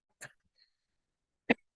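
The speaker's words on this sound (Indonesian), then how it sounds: "mohon maaf, saya itu masih agak batuk kan itu" Two short coughs, separated by a second of near silence, the second one louder and sharper.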